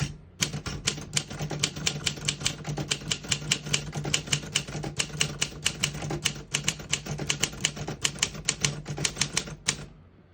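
Brisk typing on a 1958 Olympia SM3 portable typewriter, with close, crisp key strikes landing in a quick, uneven rhythm for about ten seconds and then stopping abruptly.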